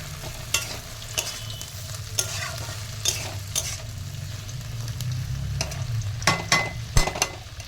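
Green beans, broad beans and onion stalks stir-fry in a hot pan, a steady sizzle broken by sharp scrapes and clacks of a spatula at irregular moments, close and fairly quiet.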